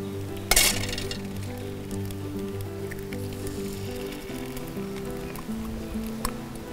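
Eggs sizzle in a pan over a campfire with a steady, soft frying hiss, opening with a sharp metallic clink followed by a few lighter taps, and no talk.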